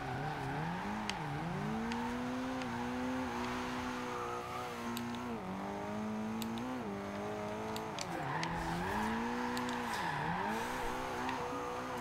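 Toyota MR-2 SW20 engine in Forza Horizon 2, a steady revving drone with harmonics rising and dipping through gear shifts, with brief tire squeal, running continuously without speech.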